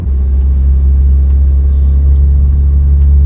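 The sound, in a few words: tuned car engine running and revving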